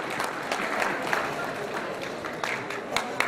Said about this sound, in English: A round of applause for the government woman.